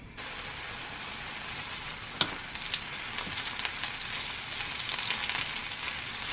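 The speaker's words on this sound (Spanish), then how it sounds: "En este sartén voy a agregar un chorritín de aceite. Un chorritín nada más. Y ahí voy a poner rodajas de limón." Lemon slices sizzle in a little oil in a frying pan, a steady bright crackle throughout with a few sharper pops and spatters, quiet and close.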